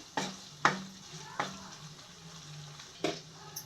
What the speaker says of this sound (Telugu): మన కాజు పన్నీర్ అనేది ఎలా ఫ్రై అవుతుందో చూద్దరండి